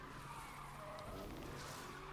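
A car drifts sideways through a corner in the Need for Speed Unbound racing game, its tires skidding and squealing continuously under a steady engine roar, loud and unbroken throughout, with no talk.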